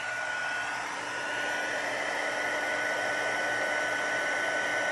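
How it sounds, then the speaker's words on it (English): A heat gun blows continuously during papercraft stamping, producing a loud, steady airy roar with a faint whine, close and unbroken for the whole stretch. "So I apologize for the sound of the heat gun."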